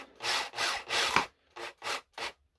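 Plasterboard fixings being screwed into a wall, heard as six separate grinding, rubbing bursts, the first three long and close together and the last three shorter with clear gaps between them, close and alone.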